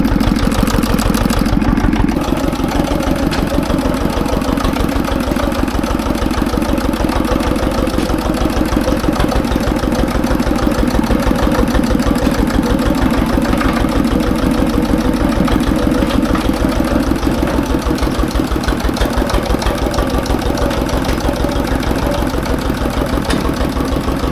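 A tractor's diesel engine idles steadily in freezing weather with a low, rhythmic chugging knock, loud and close, running unchanged for the whole stretch.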